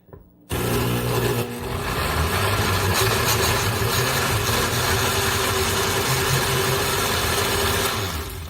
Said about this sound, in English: We're going to give this a quick blend before we add our 3 ice cubes.